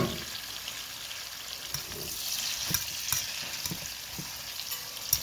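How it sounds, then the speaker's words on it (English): Onions, tomato, pepper, green onions and thyme sizzle in a hot pan with a steady frying hiss, while a spoon stirs and scrapes them in soft, intermittent strokes close by. "So I'm going to saute this"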